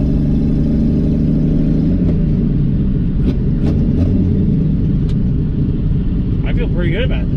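A Pontiac Ventura, driven for the first time in 40 years, pulls in second gear with a loud, steady, rumbling engine drone close by. Someone talks over the engine.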